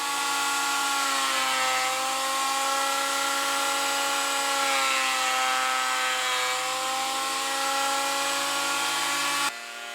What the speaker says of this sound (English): Then I'm going to get all these bits put through the planer thicknesser to clean them all up.